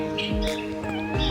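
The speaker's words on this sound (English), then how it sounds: "What's wrong, Bear Cat? He wants to go with me" A pet cat meows in a few short, plaintive cries close by, each one rising then dropping, over a steady background hum.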